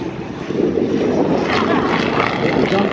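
Propeller airplanes fly at the Flying Circus Airshow, giving a steady, loud engine drone that swells in the middle and holds. Background noise underneath is broad, and no clear speech comes through.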